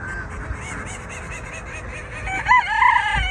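Chickens on a farm cluck in a close, busy flock while a rooster crows loudly near the end, honking fowl calls mixed in over a morning yard.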